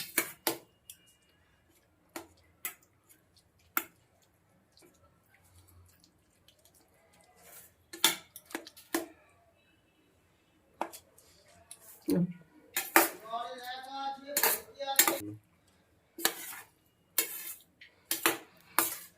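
Mashed cauliflower is pressed with a metal ladle in a pan, giving scattered sharp clinks and scrapes with quiet gaps between, busier toward the end, while someone speaks in between.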